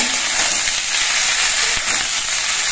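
Potato and eggplant pieces frying together in hot oil in a pan, a loud, steady, close hiss of sizzling that barely changes throughout, heard alone without talk.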